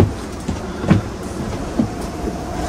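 Steady rumble of a train running, with the rhythmic clack of wheels over rail joints under a continuous roar, close and fairly loud throughout, no talk.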